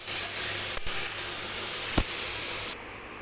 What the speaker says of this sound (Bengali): প্রথমেই আমি চিকেনগুলো একটু হালকা করে ভেজে নিচ্ছি।